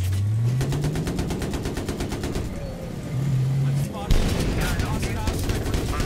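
Gunfire in Battlefield 3 on the Bazaar map, rapid automatic bursts cracking over a revving vehicle engine, then a heavy loud shot followed by dense crackling fire.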